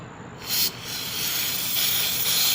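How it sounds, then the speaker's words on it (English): Carburetor cleaner sprayed onto a Briggs and Stratton small-engine carburetor during a rebuild, a loud steady aerosol hiss that starts after a short quiet moment and runs continuously, with no talking. "carburetor cleaner"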